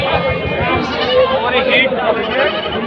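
A large castrated goat bleats at a crowded livestock market, a loud wavering call heard up close over constant crowd chatter and voices.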